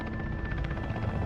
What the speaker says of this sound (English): I thought the helicopter come pick me up.